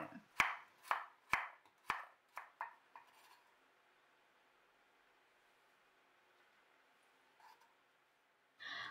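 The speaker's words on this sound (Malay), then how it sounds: "Setengah batang carrot diiris nipis." A knife slices half a carrot thinly on a board, about eight crisp, close chops in a quick steady rhythm that taper off, followed by quiet and a faint clatter near the end.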